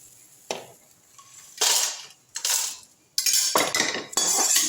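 Roasted manathakkali greens scooped off a pan onto a plate for idli podi, with a run of metallic spoon scrapes and clinks against the pan, close and fairly loud, without talk.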